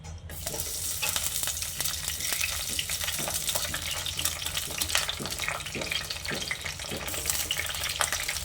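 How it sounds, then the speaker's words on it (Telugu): Stuffed brinjals sautéing in a couple of spoons of oil in a pan for curry, a steady loud sizzle with occasional stirring clicks and scrapes throughout. "వంకాయలు ఆయిల్లోన కొంచెం మగ్గించుకుందాం."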